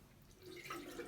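Water is poured out of a small mini aquarium tank, a short, faint trickling splash that builds slightly toward the end.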